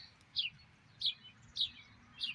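Birds chirp outdoors: four short, evenly spaced tweets ring out clearly over a faint, low background hum.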